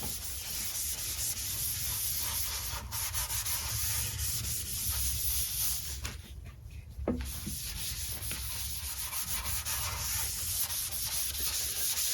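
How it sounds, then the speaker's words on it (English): Steady, close cloth rubbing as finish is worked into a hardwood bench with a Scotch cloth, a continuous scratchy swish with brief pauses and no talk. "Slather it on, rub it in, and then we'll keep rubbing it in until it won't take anymore"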